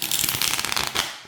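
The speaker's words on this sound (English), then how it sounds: "I don't think I've ever riffle shuffled this before" A deck of slightly thick tarot cards riffle shuffled, a quick close crisp burst of fluttering card edges lasting just over a second.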